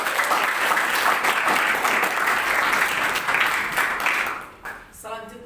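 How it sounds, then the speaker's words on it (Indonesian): Steady applause from a crowd, dense and sustained for several seconds, then tapering off as it fades at the end. "Kita beri tepuk tangan."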